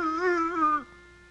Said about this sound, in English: Why can't you just bark like other dogs?